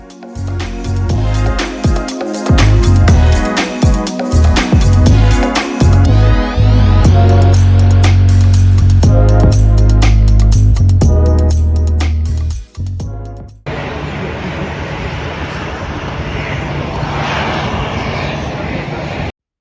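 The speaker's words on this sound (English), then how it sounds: "It wasn't long before we were coming in for a landing, and it was a pretty smooth landing as landings go" An airliner comes in to land on a flight to Gothenburg: a loud, steady cabin roar of engine and airflow that continues alone after music and talk fade out.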